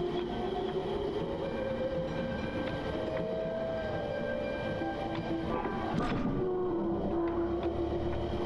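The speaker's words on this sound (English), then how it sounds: "Hey train." A slow train rolls steadily past in the video game The Norwood Suite, its rumble continuous with faint tonal squeals and a brief clank near the end, no voices.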